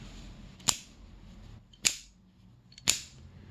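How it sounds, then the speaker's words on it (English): A solid-gate carabiner is pounded against a knee three times, each strike a sharp metallic snap and clack with a brief rattle of the gate fluttering open, separated by roughly a second of quiet. "As the carabiner hits my knee, you'll note the sound. The carabiner is actually opening."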